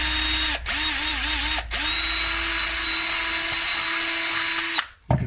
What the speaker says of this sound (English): Now, the drill is not quite long enough to reach down into the next hole.